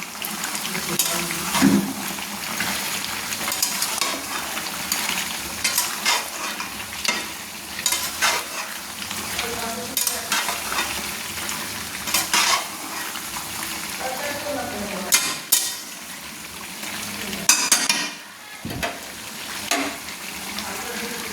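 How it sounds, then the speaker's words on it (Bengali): Mutton masala frying in a pan sizzles steadily while a spoon stirs and scrapes it, with repeated clanks against the pan. A trickle of water runs now and then, and faint voices sound at times underneath. "যে মটনের মশলাটা রেখেছিলাম সেটা আমি দিয়ে দিচ্ছি। দিয়ে একটু নেড়ে নিচ্ছি।"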